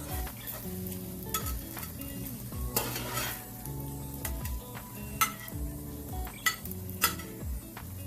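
Potatoes fry in a pan with a quiet continuous sizzle, accompanied by frequent clinks and scrapes of utensils against the pan.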